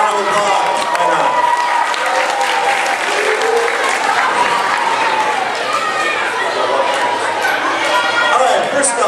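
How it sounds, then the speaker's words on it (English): Audience applause at a fifth grade vocabulary parade, a steady, dense wash of clapping from a crowd with some chatter mixed in, sustained and fairly loud throughout. "Yeah, round of applause."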